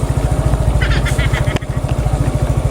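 A heavy motorcycle of about 400 kilos crossing a hanging bridge, its engine chugging in a fast, even pulse close by, with a brief metallic clatter midway and no speech over it.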